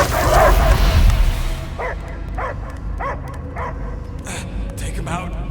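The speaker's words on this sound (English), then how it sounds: "I hear only barking." A dog barks in a short run of sharp yips and whimpers during a Guardians of the Galaxy game scene, following a loud burst of action sound and with voices talking underneath.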